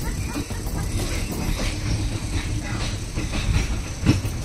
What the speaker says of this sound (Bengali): ব্যাংকক রেলওয়ে স্টেশন থেকে লোকাল ট্রেন ধরেছি।